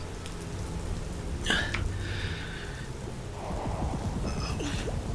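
A heavy downpour hisses as a steady, dense wash of rain, with a brief louder burst near the middle and no voices.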